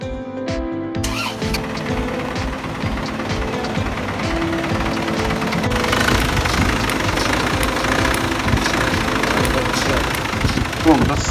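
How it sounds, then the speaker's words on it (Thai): A car engine cranks and starts after its air-conditioning compressor belt is replaced, then settles into a close, steady rumbling idle with the A/C switched on, and a voice talks over it. "เราก็ทำการสตาร์ทเครื่อง ลองเครื่อง เปิดแอร์ดู"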